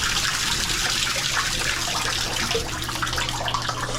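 Steady hiss of running water from a hotel room shower, constant and fairly close, with no pauses or voices.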